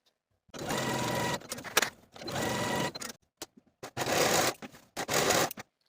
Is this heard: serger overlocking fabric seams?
yes